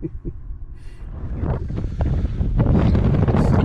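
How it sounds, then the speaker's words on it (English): Strong wind roars and buffets the microphone, building steadily louder with gusty rumbling throughout. "it's super windy here"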